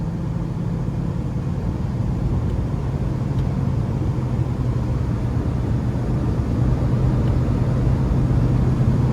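A 2008 Toyota Tacoma TRD Off-Road V6 with very high mileage cruises down the interstate, giving a steady, even low rumble of road and engine noise that runs unbroken throughout, with no talking.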